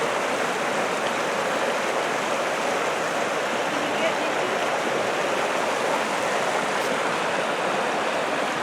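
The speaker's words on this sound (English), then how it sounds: "This is right in the middle of the creek." Creek water rushing after floods at Wolf Creek, a close, loud and continuous churning flow that stays even from start to finish.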